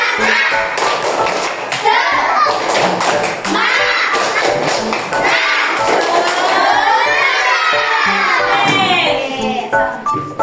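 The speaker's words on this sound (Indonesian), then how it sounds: "Ayo, tepuk semangat." Children in a classroom clap out a rhythmic spirit chant, sharp hand claps in patterned bursts under loud, energetic group shouting and chanting voices.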